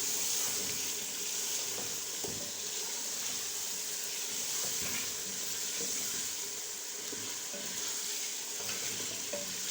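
Chicken pieces go into a hot cooking pot for haleem, giving a steady, fairly loud sizzle and frying hiss throughout with a few soft stirring knocks and no talk.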